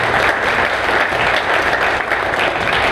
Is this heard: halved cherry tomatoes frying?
no